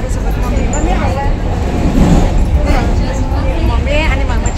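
Interior of a moving air-conditioned Mumbai local train, with a steady loud rumble of wheels and carriage noise, continuous throughout, and a babble of passengers' voices mixed into the din.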